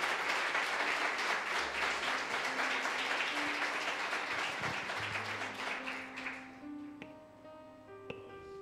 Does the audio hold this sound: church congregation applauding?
yes